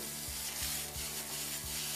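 Chicken pieces frying with minced onion and garlic in hot oil over high heat, a bright sizzle under quick, regular stirring strokes repeating several times a second.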